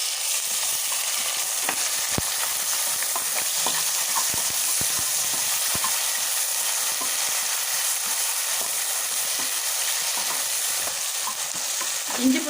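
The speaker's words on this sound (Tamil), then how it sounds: "இஞ்சி பூண்டு பேஸ்ட் பாருங்கள் எண்ணெயில் நல்லா பொரியுது" Ginger garlic paste fries in hot oil for a prawn biryani, giving a steady, dense sizzle with soft stirring scrapes and small pops throughout, close and continuous with no talking.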